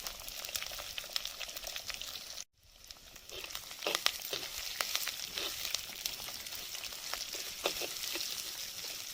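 Chopped onions and garlic, with curry leaves, fry in a pan for tomato thokku, giving a soft, steady sizzle and crackle with occasional stirring scrapes, faint and without talk.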